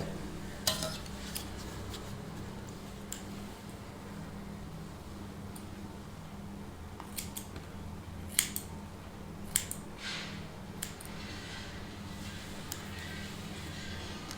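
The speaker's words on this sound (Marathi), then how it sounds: "आता आपण करणार आहे डीप यू कट" Scissors snip through wet hair during a deep U haircut, a series of sharp, close clicks spaced irregularly over a low steady hum, with occasional quick clusters of cuts.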